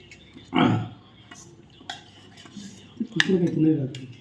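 A spoon clinks on a plate while serving pickle, with a sharp scrape and clatter, then lighter taps and a cluster of clinks a few seconds later, close and clear in a quiet room.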